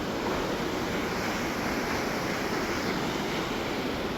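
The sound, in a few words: Birthi Waterfall spray and rushing water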